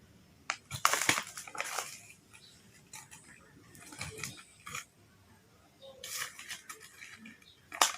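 Bursts of granular scooping and clinking as two tablespoons are dropped into each glass, three separate rounds with quiet pauses between.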